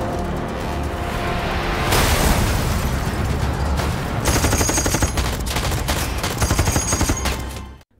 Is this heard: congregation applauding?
no